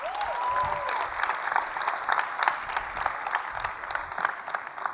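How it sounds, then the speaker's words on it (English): Audience applause at a 2019 keynote talk in Dubai, a steady wash of clapping from a large crowd filling the whole stretch, moderately loud with a faint tonal whistle near the start. "Let's clap it up."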